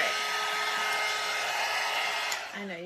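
A hair dryer blowing close up to dry paint on a small craft door, a loud, steady whirring rush with a faint tonal whine that drops off near the end.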